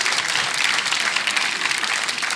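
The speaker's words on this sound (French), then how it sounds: "Si tu applaudis, il faut que tout le monde applaudisse." Audience applause at a French stand-up comedy show, a steady dense wash of many hands clapping throughout, fairly loud and with no voices over it.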